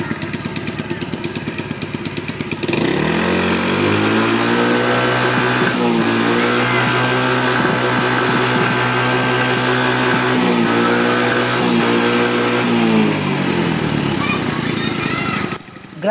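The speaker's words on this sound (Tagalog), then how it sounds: "ipaparinig ko na nga pala sa inyo ang kanyang tunog ng makina" A freshly refreshed Choi Nori motorcycle engine starts up close, running loud and rough, surging and settling through several revs before cutting off near the end.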